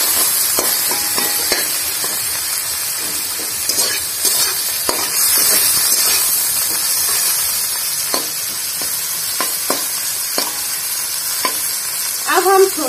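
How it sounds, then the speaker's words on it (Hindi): Chopped onion fries in oil in a pan, sizzling loudly and steadily up close, with scattered clinks and scrapes of a stirring spoon and no talking. "तो थोड़ी देर प्याज को भाजी करना पड़ेगा।"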